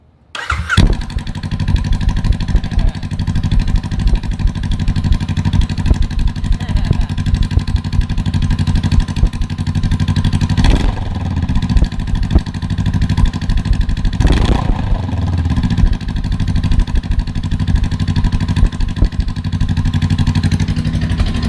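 A Honda Rebel 500 motorcycle engine without a muffler starts and runs for about twenty seconds, a loud, raw, close idle with a couple of sharper revs.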